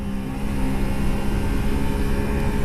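A 125cc motorcycle engine runs hard and steady near Plougoumelen, a loud, close, buzzing drone that holds at high revs throughout, with no talk.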